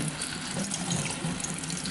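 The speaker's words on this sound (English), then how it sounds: "I'm just gently running the water through it." Water runs gently through dyed fibre for a low-immersion colour blend, a soft steady trickle with faint mechanical clicks close by.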